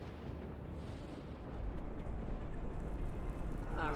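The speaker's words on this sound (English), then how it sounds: "ils utilisent les cristaux pour créer une explosion et" Explosion in a StarCraft II cinematic as crystals are used to purify Shakuras: a low rumbling blast that swells and grows louder, ending in a rising roar.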